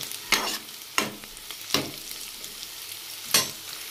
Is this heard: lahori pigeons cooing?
no